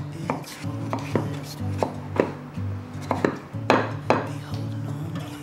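A knife cuts a peeled pear into strips on a cutting board in a home kitchen, giving about a dozen crisp, irregular chopping knocks close by with light clatter between them.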